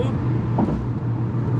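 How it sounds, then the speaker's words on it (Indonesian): Steady DFSK Glory i-Auto engine drone at high revs, around 5000 rpm, cruising near 110 km/h just after a shift into fourth gear, a continuous close rumble inside the cabin with no break. "5000 rpm gue masuk gigi 4, kecepatan 110."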